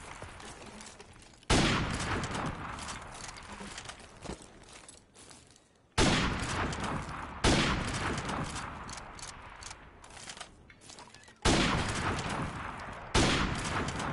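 Gunfire in a one-on-one shooter video game: five loud, sharp blasts spaced a few seconds apart, each with a broad crack and a trailing decay, over a low background hum.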